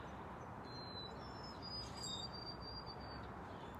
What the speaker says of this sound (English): I can hear some birds